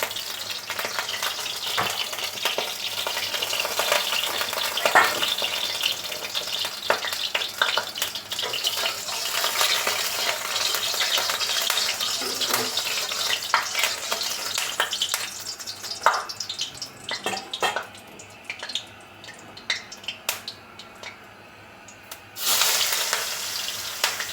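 Mustard oil heats and fries in a hot wok (kadai) at the start of a Bengali fish curry with potato and drumstick. There is a steady, loud crackling sizzle all the way through, with a few clinks and stirring knocks and no talk.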